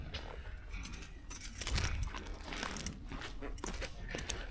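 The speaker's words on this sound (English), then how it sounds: "Go ahead and grab the keys so we can check out the trunk." Keys for a 1970 Oldsmobile Delta 88 jangle and clink in hand over several seconds, with a slightly louder rattle midway, while a person talks nearby.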